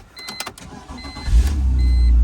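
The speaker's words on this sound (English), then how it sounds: "I think it'll start." A BMW E46 wagon abandoned with very high mileage cranks and fires up; light clicks and chimes come first, then the engine catches and settles into a loud, steady idle close by.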